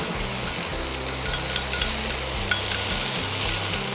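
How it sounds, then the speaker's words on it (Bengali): Spices and tomato fry in a pan for shish palong chicken, giving a steady, dense sizzle with small crackles throughout, close and fairly loud, with a low hum underneath. "এবারে মশলাটাকে কষছো আর কি, টমেটোটা দিয়ে একটু কষে নিতে হবে"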